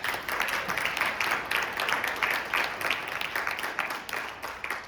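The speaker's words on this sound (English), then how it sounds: "Let's give them one more round of applause." Steady applause from an audience at a business breakfast in Idaho, hands clapping densely and evenly for the full stretch at moderate distance, with no one speaking over it.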